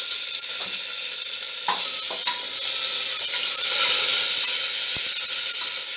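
Curry leaves and red chilies frying in hot oil, giving a loud, steady hiss and sizzle up close, with a few faint clicks of stirring.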